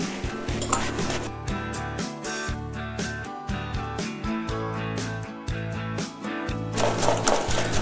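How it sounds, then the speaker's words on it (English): Vegetable oil and powdered sugar whisked together in a bowl, a quick rhythmic clatter of the whisk against the bowl, close and continuous with a few louder clinks. "to the vegetable oil, we'll add 1/2 cup of powdered sugar. And we're going to whisk the two together."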